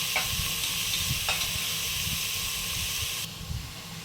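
Chopped beans, a quarter kilo, sautéing in a hot pan for fried rice: a loud, continuous close hiss and sizzle with a few soft scrapes of a stirring spoon.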